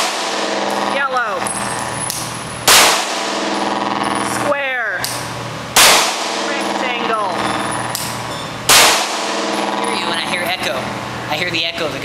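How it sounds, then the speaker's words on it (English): Loud gunshots ring out every few seconds, each followed by a long reverberating echo, over a continuous mechanical drone with a voice talking underneath. "I hear the echo of the gunshots."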